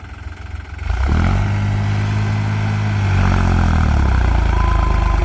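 A New Holland tractor engine goes from a low idle to a loud, close, steady roar. The low tone rises and then shifts a little as the revs change, with no talking.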